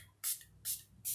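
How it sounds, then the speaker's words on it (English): Makeup finishing and fixing spray misted onto a face after powder, three short hissing bursts in quick succession with brief pauses between, close and fairly loud with no talking. "nitakwenda kupulizia finishing spray, makeup fixing, kama hivi"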